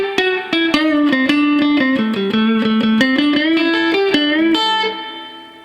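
Electric guitar plays a blues lick in A, a run of quick picked notes walking up and down the neck before a final sustained note fades, close and solo.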